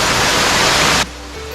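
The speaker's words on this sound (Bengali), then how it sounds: "একে বেঁকে পানি নামছে তো বুঝতে পারছেন এটাই হচ্ছে সর্বপ্রবাদ ঝর্ণা" Steady, loud rushing water from the Sarboprobad waterfall on the Harinmara trail, where the stream tumbles down in bends; the broad roar cuts off abruptly after about a second, leaving a faint hiss.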